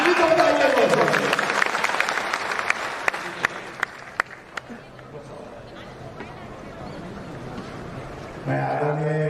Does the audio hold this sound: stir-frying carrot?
no